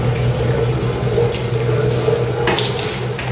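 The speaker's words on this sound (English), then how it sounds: "now distilled water is coming. You can now collect distilled water in any tank." Distilled water running from a 50-liter-per-hour water distillation unit, a steady close stream splashing into a container with a constant hum underneath, louder gushes near the end, no talking.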